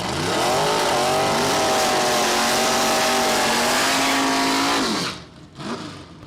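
Drag race cars, a 1992 Ford Mustang and an Oldsmobile Cutlass, launching side by side at a bracket race: loud, sustained engine howl with rising revs for about five seconds, then cutting off abruptly to a fading rumble.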